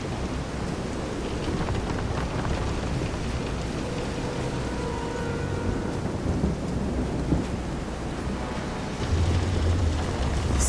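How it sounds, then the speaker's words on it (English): A thunderstorm at sea in Visions of Mana: heavy rain hisses throughout with a low, rumbling roll of thunder, swelling louder near the end. No one speaks. "This is some storm."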